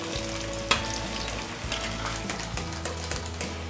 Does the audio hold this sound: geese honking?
no